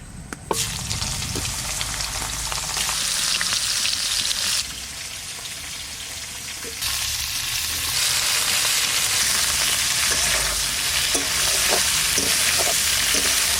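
Cauliflower frying in hot oil with dried red chilies, cardamom, cinnamon, cloves and peppercorns gives a loud, continuous, close sizzle that swells and eases in stages while being stirred, with occasional small pops and no talk.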